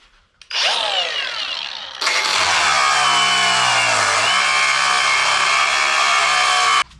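A loud cordless power drill whirs steadily after a brief lower spin-up, its motor pitch dipping once under load while working on scrap metal before cutting off abruptly.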